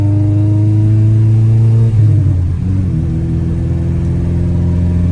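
A B18C1-powered Acura Integra with a newly installed ACT clutch and lightweight flywheel holds a loud, steady engine drone, then briefly revs and shifts around the two-second mark before settling back to a strong rumble.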